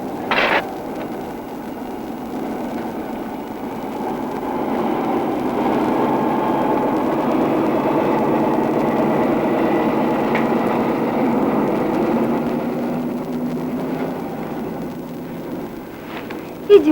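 A train at a station gives off a low, steady rumble that builds and holds for many seconds, fairly distant and even, with brief sharp clanks at the start and end.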